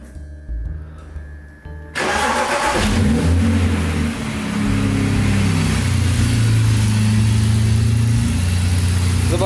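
A BMW E60 with an M54 engine, suffering an intermittent ignition misfire, starts and then runs loud and close, its idle holding with slight unevenness after a short quieter lead-in.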